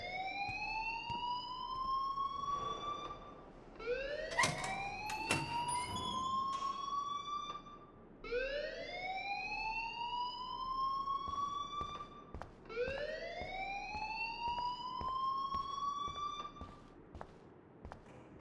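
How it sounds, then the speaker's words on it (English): A school alarm in Life Is Strange rings as four rising, wailing sweeps repeating every few seconds, loud and alone with a couple of sharp knocks between the first two. "please turn off that alarm since that's your job"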